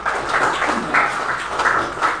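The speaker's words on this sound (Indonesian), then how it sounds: "Kita tepuk tangan dulu untuk kawan-kawan" Schoolchildren in a classroom clap briefly for their classmates, a short patter of hand claps in small bursts, moderately close and slightly uneven, with no talk over it.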